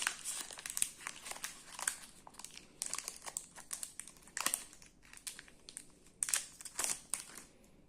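Foil wrapper of a Pokémon Obsidian Flames booster pack crinkling and tearing as it is opened by hand, in close, repeated bursts of crackle with short pauses between them.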